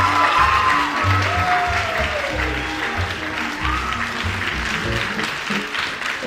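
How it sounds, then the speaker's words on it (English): A crowd claps and cheers for teenage performers at the end of a Comedy Night 2025 show, with sustained, fairly loud applause and scattered voices and whoops mixed through the clapping. "Let's give a round of applause for all the teenagers"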